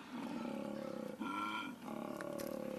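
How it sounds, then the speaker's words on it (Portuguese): A male koala bellows its mating call in deep, rasping, rhythmic grunting roars, loud and close, with a brief pause midway before the pulsing bellow resumes. "o koala macho, ou o buck, como chamam os australianos, emite um som que o ajuda a projetar seu chamado de acasalamento"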